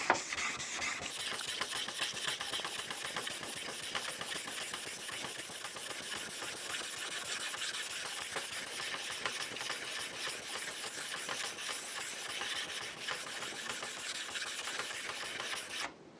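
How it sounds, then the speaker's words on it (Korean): Hand sanding a smooth surface with 2000 grit sandpaper as the final sanding pass: a steady, continuous rubbing rasp, close and fairly loud, running without pause for the whole stretch with no talking. "자, 이제 2천 마지막 사포를 해보겠습니다."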